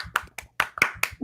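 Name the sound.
applause, hands clapping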